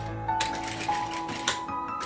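A sewing machine stitches fabric for a diagonal ribbon in a short burst, a rapid steady mechanical whirr with faint periodic clicks, close and moderately loud.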